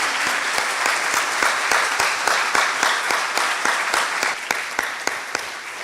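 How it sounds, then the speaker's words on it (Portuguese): A congregation at a church preaching service breaks into loud, sustained applause, with dense clapping and sharp individual claps standing out throughout. "Vamos aplaudir mais uma vez"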